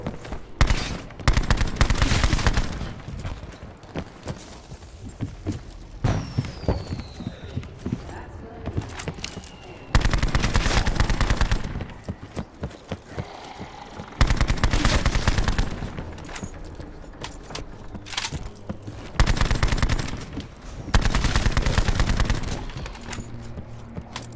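Gunfire rings out in Black Ops 4 zombies on a Titanic-themed ocean liner map, loud repeated automatic bursts with hard impacts clustered in several waves, mixed with game effects while players talk over it.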